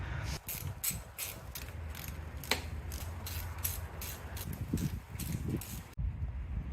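A ratchet spins out the valve cover bolts on a 1995 Mazda Miata, its quick clicking bursts repeating close up in an irregular rhythm throughout, with no talking.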